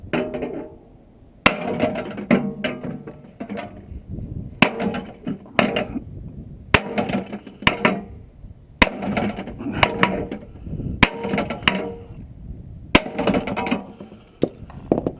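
Sharp hammer blows strike in irregular bursts while removing a fan from a motor, about eight heavy hits with quieter taps and rattles between them, close and loud with no talking.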